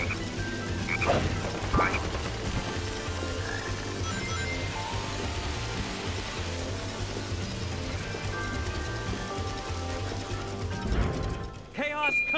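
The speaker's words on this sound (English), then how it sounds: "Did you guys hear a croak?" Frog croaks ring out in a Sonic Heroes jungle stage, two loud croaks near the start and another near the end, over busy game music and sound effects.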